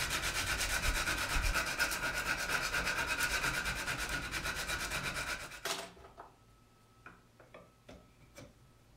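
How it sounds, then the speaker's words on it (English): Rapid rhythmic rasping of 80 grit sandpaper backed by a hacksaw blade scrubbing back and forth inside a wooden carving knife handle for several seconds, close up, then a few scattered strokes and light taps. "I'll smooth out the interior a little with 80 grit sandpaper"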